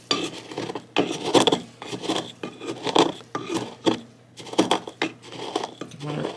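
Peppercorns and mustard seeds are cracked, not ground, in repeated rasping, crunching bursts of roughly half a second each, close and fairly loud, separated by brief pauses.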